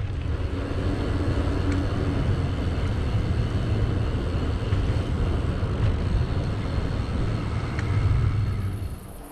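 A car drives steadily out of a small Taunus village with a constant low engine and road rumble, swelling slightly louder near the end, with no talk.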